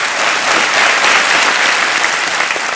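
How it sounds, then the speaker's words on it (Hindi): A Kaun Banega Crorepati studio audience breaks into loud, dense applause that stays sustained and even throughout. "एक बार फिर तालियां बजाता हूं मैं आपको।"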